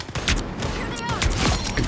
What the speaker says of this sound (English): So his pistol is actually a projectile that has 3 shots and deals 75 damage per shot.